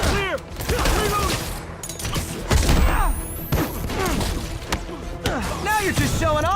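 Gunfire in the Marvel's Spider-Man video game, with repeated shots and impacts mixed into busy combat effects, whooshes and a brief rising whine, continuing throughout.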